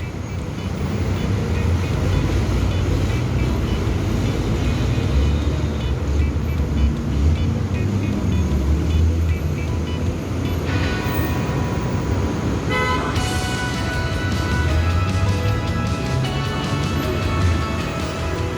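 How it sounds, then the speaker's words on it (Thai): Busy road traffic at the Ratchada intersection in Bangkok: a dense, loud, continuous roar of engines and tyres, with car horns honking near the end. "การจราจรตรงแยกรัชดาตรงนี้"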